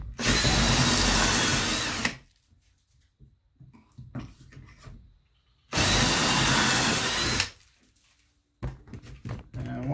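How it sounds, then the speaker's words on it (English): A power drill bores pocket holes into wood for a budget student desk, two loud sustained whirring bursts of about two seconds each, separated by quieter handling clunks and knocks. "I'm gonna drill 2 more on the other end."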